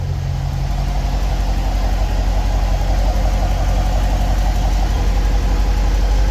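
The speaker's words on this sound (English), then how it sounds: "Engine sounding nice and smooth" A Corvette C7 V8 engine idles steadily up close, a deep, even rumble with a smooth, unbroken rhythm and no knocking, heard alone and loud throughout.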